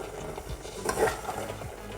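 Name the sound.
stirring melting chocolate mixture in a pot on gas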